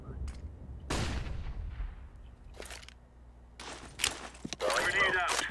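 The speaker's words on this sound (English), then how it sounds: "Throwing flashbang." A flashbang grenade goes off in Counter-Strike: Global Offensive as a few sharp, loud bursts with ringing tails. Quieter gaps fall between them, and mechanical game noise and bright effects crowd in toward the end.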